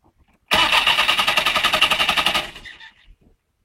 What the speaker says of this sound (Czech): užít si zvukové kulisy chodu tohoto motoru